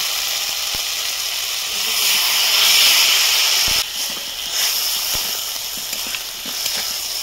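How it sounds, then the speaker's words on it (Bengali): Water poured into a hot pan of young jackfruit curry bursts into a steady hissing sizzle, swelling briefly louder and then settling, with faint clicks and scrapes from the pan. "একটু জল দেবো।"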